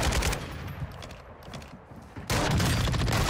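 Shotgun fire in a video game arrives as a dense cluster of loud blasts at the start, then a quieter mechanical stretch, then a sudden heavy burst of continuous noise.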